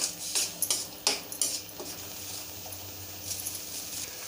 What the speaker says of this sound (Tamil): லெமன் ஜூஸ் போட்ட பிறகு ஒரு 2 நிமிஷம் நல்லா இந்த மாதிரி வதக்கி விட்ருங்க